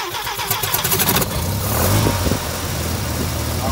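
A rotary-engined pickup runs with its distributor cap removed, the engine cranking and catching, then settling into a steady, rough idle close by with no talk.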